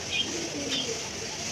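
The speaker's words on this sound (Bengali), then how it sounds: "কবুতর ডাকছে" A pigeon coos softly nearby in a short, low call against a quiet morning background, with faint chirps from other birds.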